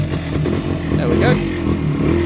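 A carburettor petrol engine on electric start cranks and catches without choke, running steadily with a rising rev near the middle, loud and close, with a voice speaking over it.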